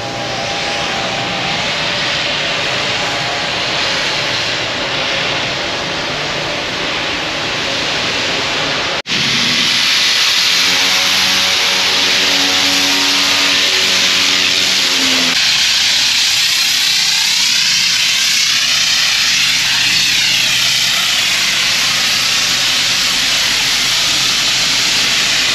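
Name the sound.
water blasting ship hull to remove rust in drydock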